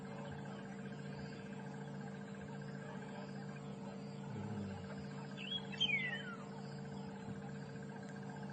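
A woodland kingfisher gives a brief descending whistled trill once, faint and distant over a steady bed of insects and other birds on a morning safari drive at Djuma Game Reserve.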